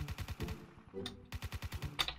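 Rapid rifle gunfire in the blocky shooter Counter Craft, team deathmatch: loud close bursts of sharp shots in a quick steady rhythm, a short pause, then another run of shots.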